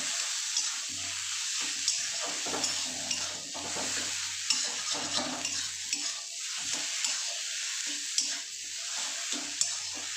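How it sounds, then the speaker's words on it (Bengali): Potato mixture for egg-potato chops being stirred in a kadai, a steady scraping and sizzling with spoon knocks and clatter running throughout, close and alone. "এখন আমি ভালো করে মিক্স করে নেব।"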